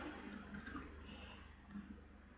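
A couple of quiet computer mouse clicks land close together over a faint room hum, followed by a softer tick a second later.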